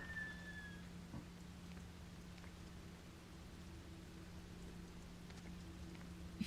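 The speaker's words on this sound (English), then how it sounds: "The rain sounds nice." Soft, steady rain hisses faintly throughout a quiet scene in the horror video game Fatal Frame: Maiden of the Black Water, over a low constant hum.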